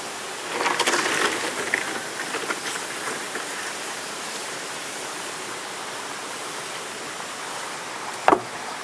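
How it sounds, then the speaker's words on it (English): Water rushing down from rice fields roars steadily as a broad, constant wash of noise, with a brief sharp knock near the end. "you can actually hear that there's a ton of water coming down from up in the rice fields"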